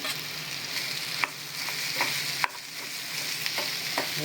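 Boiled potatoes are stirred into sizzling masala in a pan for bread pakoda stuffing. A constant hiss of frying runs throughout, with several sharp spoon scrapes against the pan.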